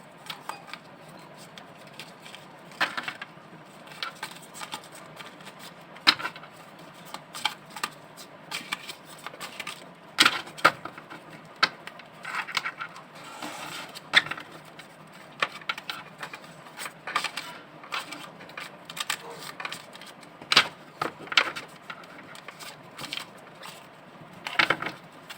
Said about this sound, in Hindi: मैंने कार्ड्स को पहले से शफल कर लिया है, इसे यहाँ प्लेस कर देती हूँ